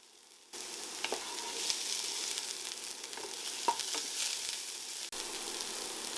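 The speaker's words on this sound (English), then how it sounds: "Start by sauteing the onions in a little oil" Onions sautéing in a little oil in a pan, a steady close hiss that begins abruptly, with occasional light utensil scrapes and taps mixed in, no talking.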